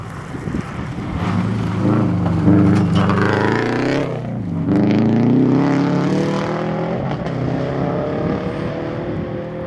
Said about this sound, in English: what's missing from the sound of Evan's car as he goes by